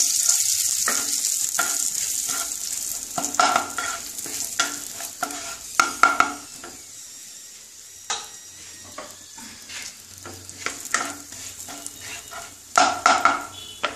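Crushed peanuts frying and being stirred in a pan while cooking red spinach: steady sizzle with repeated scraping stir strokes and light clinks of a utensil against the pan, fairly close.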